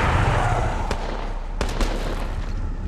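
Gunfire in the battle game Apex Legends cracks out over a dense, noisy mix of game sound, with a few sharp shots standing out loud and close.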